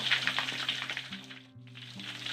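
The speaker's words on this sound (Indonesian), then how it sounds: "Tuh, kita goreng sebentar lagi ya." A large gourami fish frying in hot oil, giving a steady bright sizzle with soft crackles and a low hum underneath, close and moderately loud throughout.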